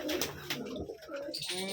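Pigeons of a biscuit-coloured breed coo in repeated soft, throaty calls, close by, with more birds and faint rustling underneath and someone speaking briefly among them.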